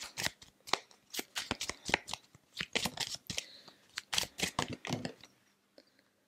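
Tarot cards are shuffled by hand, a quick series of crisp riffling bursts in an uneven rhythm, close and fairly quiet, with no talking.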